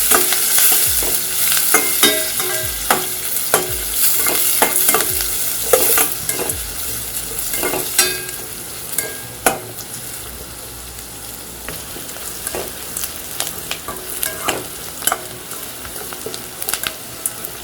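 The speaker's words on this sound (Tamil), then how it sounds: "வெங்காயம் வதங்கிருச்சு." Onions and curry leaves sauté in a pan for egg bread upma, with steady frying sizzle, a spoon stirring and scraping in repeated bursts, and sharp clinks against the pan, close and continuous without talk.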